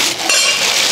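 A Demeyere Atlantis 2.3 quart stainless steel stew pan being handled, a brief close metallic clink with a short ringing tail, no talk.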